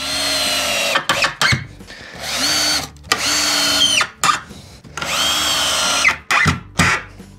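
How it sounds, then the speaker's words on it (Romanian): A power drill drives lag screws into a post while fitting water troughs in a cow barn, sounding in several loud whining bursts that rise and stop, separated by short pauses and clunks. "Acum îi dăm și holșuruburi."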